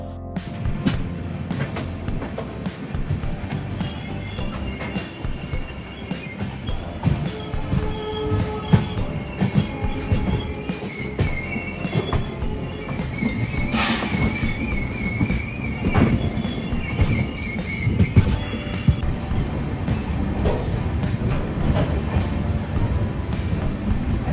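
Aboard the Tamil Nadu Express, number 12621, running from Chennai to Delhi at speed, a steady low rumble of wheels and carriages carries on throughout, with rhythmic rattles and occasional high metallic squeals.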